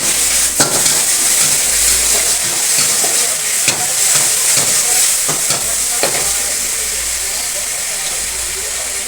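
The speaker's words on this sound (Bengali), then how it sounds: "আর চিকেন ফ্রাই হয়ে গেছে," Chicken fries in a pan, a loud hissing sizzle with steamy spitting and a few sharp clicks of utensil against pan, close and constant throughout.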